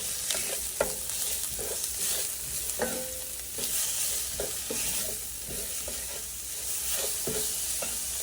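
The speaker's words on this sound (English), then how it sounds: "when you start stirring, the pleasant smells start emanating from the pan" Chickpeas and spices fry in a pan while a spoon stirs them, a steady sizzle broken by repeated scraping and clinking strokes at an uneven rhythm, close and clear with no talking.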